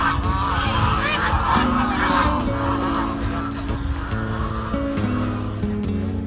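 Migratory wild ducks call across a wetland, a dense overlapping chorus of honking and quacking voices continuing steadily throughout, fairly close and loud.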